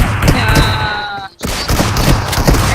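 Rapid gunfire in a 2v2 Free Fire-style mobile game match with a DBS shotgun, dense loud bursts of shots and thuds with a brief gap partway, close and continuous.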